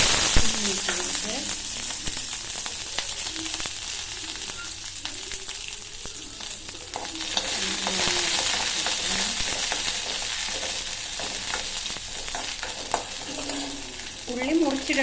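Whole onions frying in hot oil in a pan with chillies, a continuous loud sizzle with crackles throughout and occasional stirring scrapes, steady from start to finish with no voices.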